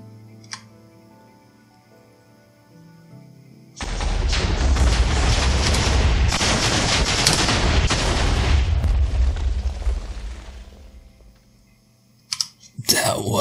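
An explosion in modded Minecraft 1.7.10 on PC roars up suddenly and loudly, a dense blast rumbling for about seven seconds before fading, with a few sharp crackles afterward and no talk over it.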